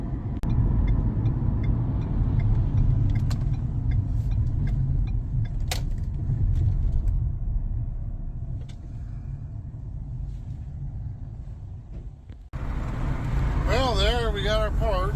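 Ford F650 truck driving on the road, a steady low engine rumble and road noise from inside the cab with occasional rattles and clicks, easing slightly before a brief break, while someone talks.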